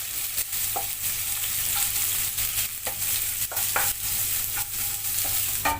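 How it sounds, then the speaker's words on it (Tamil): Chopped onion sautéing in a pan for Madras chicken curry gives a steady close sizzle, broken by repeated scraping stirs of a spoon against the pan, with no voices. "சேர்த்துட்டு இதையும் கொஞ்சம் நல்லா வதக்கிக்கலாம்."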